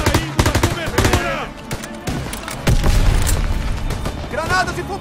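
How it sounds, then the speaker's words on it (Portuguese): Gunfire and a grenade blast ring out in Call of Duty WWII: rapid bursts of machine-gun and rifle shots, then a heavy booming explosion that rumbles on, while soldiers shout over the battle. "arremessando granada!"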